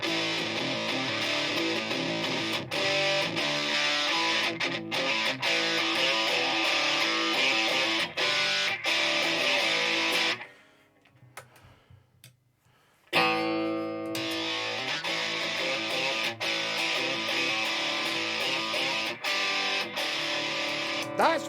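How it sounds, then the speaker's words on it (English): An electric guitar plays through a RAT distortion pedal, producing a loud, gritty, sustained tone with rhythmic chord hits, broken by a brief near-silent gap midway before it resumes. "I love the Rat, the way it's sort of fuzz, but not quite. It's more than distortion"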